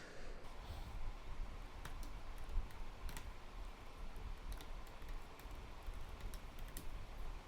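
Typing on a computer keyboard while making git commits, a steady stream of faint, quick key clicks over a low background hum, with a few sharper taps standing out.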